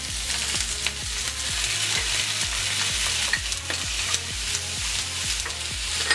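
Onions and garlic frying in a skillet for a sweet potato stir fry, a steady loud sizzle broken by rhythmic scraping stirs roughly every half second, close and continuous with no talking.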